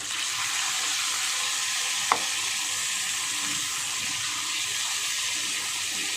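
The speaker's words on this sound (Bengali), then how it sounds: "দিয়ে আমি মাছটা ভেজে নেব।" Small shrimp frying in a pan of oil for a potato and mustard-poppy-seed curry, a steady broad hiss running throughout with one brief clink partway through.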